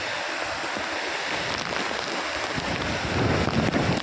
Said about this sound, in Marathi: हे बघा छोटा छोटा धबधबा आणि मोकर पाणी.